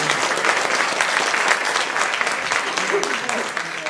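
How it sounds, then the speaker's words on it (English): A business forum breakfast crowd applauds its panelists with a few seconds of full, lively clapping that thins slightly toward the end, a voice faintly audible beneath it. "Another round of applause."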